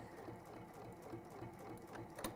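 Sewing machine running a 1/4 inch seam on textile, a steady continuous mechanical whir with fine rhythmic stitching texture, faint and close, with no voices.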